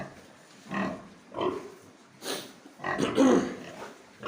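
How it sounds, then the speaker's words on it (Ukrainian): Domestic pigs on a farm grunt and snort in several short bursts, close by, with brief quiet gaps between them and no talking. "Це наші новорічні свині."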